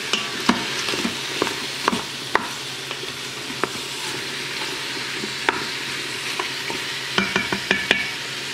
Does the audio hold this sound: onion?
yes